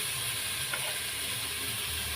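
Spices frying in a pot for spicy Telangana bagara rice, a steady close sizzle and hiss that continues evenly without pause.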